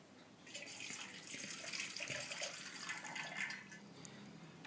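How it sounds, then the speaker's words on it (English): Water, half a bottle's worth after boiling water was added and shaken, pours out of the bottle in a steady splashing stream for several seconds with no talking. "pour the water out"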